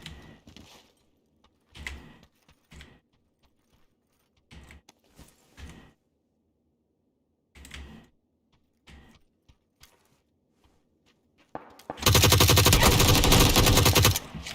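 Video game gunfire with heavy recoil in PUBG, Warzone or Apex Legends: scattered single shots and short bursts, then a loud sustained automatic burst at the end, with no talk.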